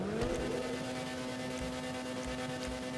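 The Ubermacht Sentinel Classic car in Grand Theft Auto V idling, a steady humming engine drone with a tone that rises slightly and settles, plus faint low puffs from the exhaust, no talking.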